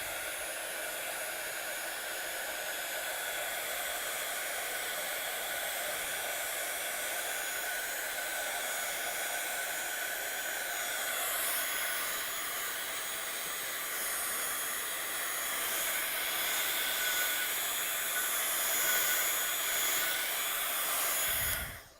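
A heat tool drying watercolour paint on paper gives out a steady, close whooshing blow that holds at an even level for over twenty seconds before cutting off sharply at the end.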